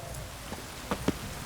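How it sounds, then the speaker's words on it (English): Rain falling in The Witcher 3: Wild Hunt, a steady hiss of rainfall with a few distinct drops pattering near the end. "It's raining, of course it's going to be damp."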